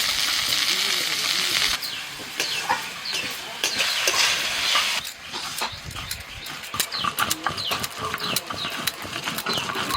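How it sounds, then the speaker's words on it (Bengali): Drumstick stems are sautéed with chopped tomato, ginger paste, turmeric and salt, giving a low sizzle under repeated clattering spatula strokes against the pan, close by, with a dog barking and some background voices. "ডাটার সাথে মশলাটাকে কষে নিয়ে"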